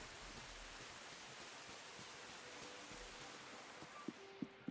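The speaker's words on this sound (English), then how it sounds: "you can hear it hitting the roof of your Hobbit house" Rain falling on the roof of a Hobbit house in the farming sim game Tales of the Shire, a soft, even hiss of steady rainfall with a few faint taps near the end.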